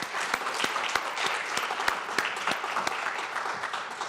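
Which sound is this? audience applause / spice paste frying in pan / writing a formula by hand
audience applause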